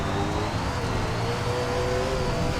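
The engine of a dirt late model race car in a racing video game drones loud and steady at high revs. It holds a continuous tone with little variation throughout.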